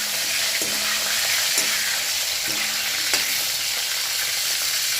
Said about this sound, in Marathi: त्याच्यामध्ये थोडीशी मोहरी, अर्धा चमचा जिरे आणि आता आपण कट केलेले वांगी टाकून घ्यावे